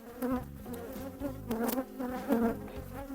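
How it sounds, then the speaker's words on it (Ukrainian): Honeybees buzz close by in an agitated, wavering drone, the pitch rising and dipping in several surges over a few seconds. "Бачите, як вони тут нервуються."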